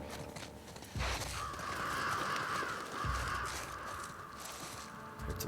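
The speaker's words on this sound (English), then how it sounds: "Heard some crows." Crows cawing in The Last of Us Part II, a harsh repeated call with a sustained rasp over a few seconds, set against outdoor game ambience with occasional footsteps.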